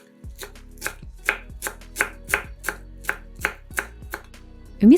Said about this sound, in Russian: Пучок петрушки измельчаем ножом.